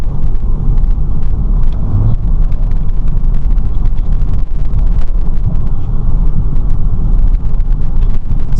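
A lifted Ford Excursion with a 7.3L PowerStroke diesel engine is driving, giving a steady, loud low rumble of road and engine noise with wind buffeting throughout and no speech.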